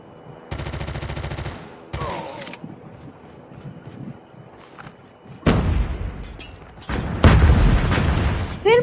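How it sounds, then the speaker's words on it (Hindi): Gunfire from the Call of Duty Mobile video game: a sustained burst of automatic fire, then scattered quieter shots, followed by heavy loud volleys and booming blasts toward the end, with faint voices in the background. "फिर मुझे आगे से वापस फायरिंग का साउंड आया"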